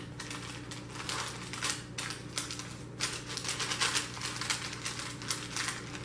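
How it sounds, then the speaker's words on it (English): Jelly roll batter scraped and spread into a baking pan with a utensil, giving steady close scratching and scraping strokes with soft clicks over a low background hum, no voices. "Scrape everything into the pan. And spread this out into your corners."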